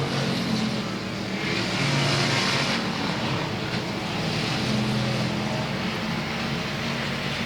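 Race cars roar around the South Texas Speedway oval in a steady, dense engine drone that swells and fades slightly as the pack passes, loud and continuous throughout.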